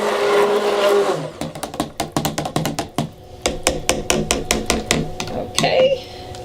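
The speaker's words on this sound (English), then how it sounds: "I haven't even really used the stick blender that much," A stick blender whirs in short pulses while mixing cold-process soap batter made with clay, goat's milk powder and cocoa, the bursts separated by gaps and clicks under the hum, with a voice talking at the start.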